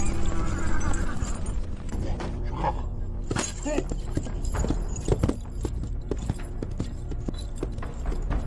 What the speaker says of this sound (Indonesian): Di sana ia beserta rombongan prajurit sedang berkuda untuk menjalankan sebuah misi.